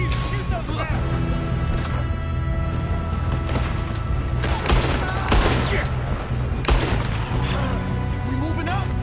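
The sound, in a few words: gunfire in the video game Red Dead Redemption 2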